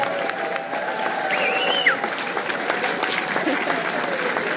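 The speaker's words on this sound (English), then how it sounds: "I'm going to hold the mic out and you're going to rave and cheer" A conference audience gives a new speaker a warm welcome, applauding and cheering steadily at full volume throughout, a dense crowd roar with a few faint whistles.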